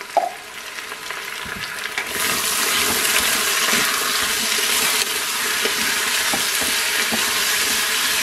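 Chopped onion frying and sizzling in a Cookeo multicooker, a steady loud crackling hiss that swells after a couple of seconds, with faint stirring knocks and no talking.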